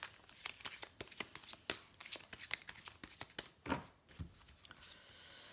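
Oracle cards being shuffled by hand for a card reading, a close, quiet run of quick riffling flicks and soft slaps in irregular bursts, with no voices.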